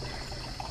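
Spring water trickles from a small spring on a farm, weakened by the dry season, in a brief, close, steady pouring sound.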